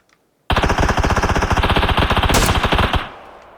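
Sustained automatic gunfire from the video game PUBG, a loud rapid burst of evenly spaced shots rattling for about two and a half seconds before cutting off.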